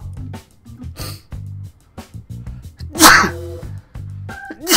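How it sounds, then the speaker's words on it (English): A person sneezes loudly and close up after a few short breaths and sniffs, with softer breathy noises around it and no words spoken. "Ooh, I might sneeze. Hold on."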